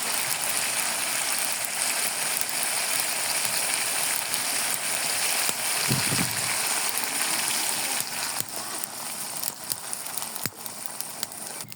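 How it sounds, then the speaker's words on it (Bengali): Water poured into a pan of chicken curry, a steady rushing gush that runs continuously and close, thinning slightly toward the end. "এখন আমি ঝোলের পানিটা দিয়ে দিব"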